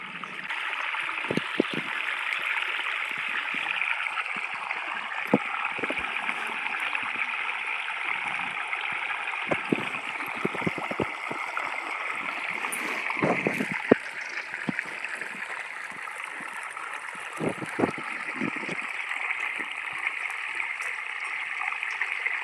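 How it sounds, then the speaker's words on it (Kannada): Irrigation water flows steadily into sorghum field beds, a continuous trickling, gurgling rush close by, broken by occasional splashes and soft thumps where the earthen channels are being blocked off. "ಕಡೆ ಎಲ್ಲ ಕಟ್ಲಾತೀನಿ ನೀರು ಹೊಂಟಾವ ನೋಡ್ರಿ"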